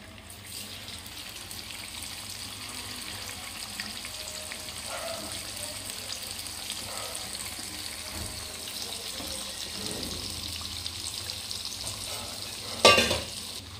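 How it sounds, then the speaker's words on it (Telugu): Marinated fish frying in hot oil gives a steady, close sizzle throughout, with a few soft clinks and a brief louder clatter near the end; no one speaks. "ఆయిల్ కొంచెం హీట్ ఎక్కిన తర్వాత మనం ముందుగా మ్యారినేట్ చేసుకున్న ఫిష్ని ఫ్రై చేసుకుందాం"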